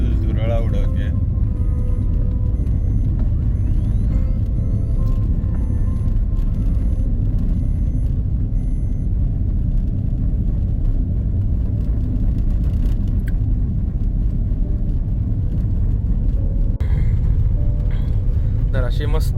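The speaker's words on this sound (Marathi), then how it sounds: "गाडी फुल धुरळा उडवते." Car driving along a dusty off-road trail in the Rann of Kutch, a continuous loud rumbling engine and tyre roar throughout, with people talking over it inside the vehicle.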